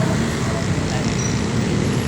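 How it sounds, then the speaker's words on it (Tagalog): Steady road traffic on Marcos Highway, a dense, continuous roar of many cars, buses and trucks rolling past nearby, loud and unbroken for the whole stretch with no voices over it. "Traffic sa Marcos Highway."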